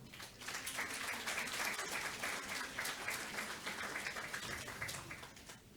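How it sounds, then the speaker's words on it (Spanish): A congregation at a New Year's worship service gives warm, steady applause, dense clapping that stays even and fairly distant, with no talk over it. "Con un fuerte aplauso."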